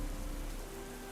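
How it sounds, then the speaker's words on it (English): Steady rain patters in a video game, a soft, dense hiss that stays even and quiet throughout with no voices. "I really do like how it feels like it's raining in game."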